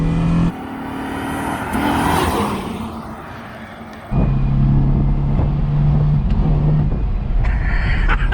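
Car launching hard, the engine roaring up through revs, dipping briefly, then surging again with a steady high drone as it pulls away, loud and close inside the cabin.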